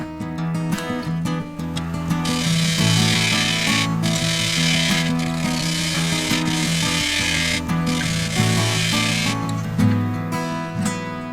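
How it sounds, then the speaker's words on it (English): Sanding a Rainbow Tulip Poplar hollowform spinning on a woodturning lathe, with a constant humming motor drone and a rough abrasive hiss that swells and fades as the sandpaper presses against the wood. "then I'll see if I can't sand it up a little bit"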